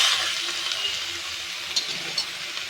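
Bottle gourd greens tipped into a hot pan with prawns and lentil dumplings, giving a steady hiss of frying with faint clinks and splashes, close and fairly quiet, with no voices.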